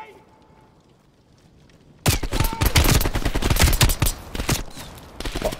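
Gunshots from an old James Bond-style gun in Call of Duty Black Ops Cold War burst in after a quiet opening, a loud close volley of rapid shots continuing to the end.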